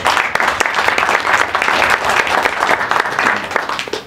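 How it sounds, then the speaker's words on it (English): An audience claps in steady, dense applause that carries on for several seconds, loud and close. "Everyone, give Paul a round of applause."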